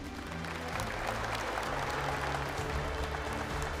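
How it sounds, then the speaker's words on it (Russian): Audience applause at the opening ceremony of a national wedding festival in Russia, sustained even clapping from a large crowd with background music tones running beneath throughout. "Ваши аплодисменты."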